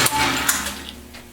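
A metal lathe cuts a chamfer on an aluminum spacer, giving a brief, steady mechanical whir with a faint tonal whine and a few light scraping ticks close by.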